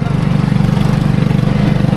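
A lawn mower engine runs steadily nearby, a loud, rapid pulsing drone with an even mechanical throb throughout, with no voices over it.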